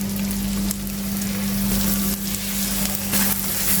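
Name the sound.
chapli kababs frying in oil on a tawa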